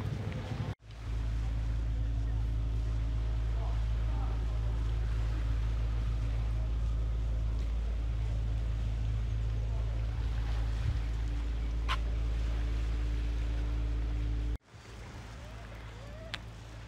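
A boat engine drones loudly and continuously at a low pitch on the way to Monkey Beach, Penang, with wind buffeting the microphone, starting and ending abruptly.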